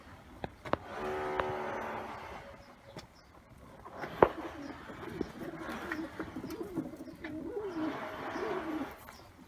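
Pigeons coo softly and repeatedly at close range in a coop, low rolling calls rising and falling, with a few sharp knocks and rustles around them.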